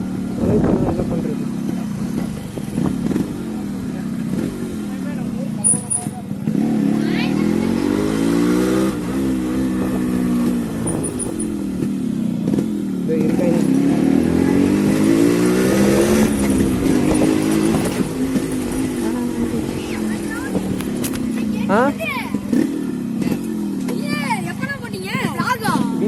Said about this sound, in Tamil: வண்டி ஆன்ல இருக்குடா.